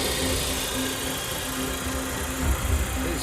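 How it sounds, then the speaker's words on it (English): A Saab 9-5 petrol engine with a Garrett GT17 turbocharger and a recirculating dump valve idles steadily nearby, giving an even, quiet hum with a faint bump in the rumble near the end. "very quiet engine that."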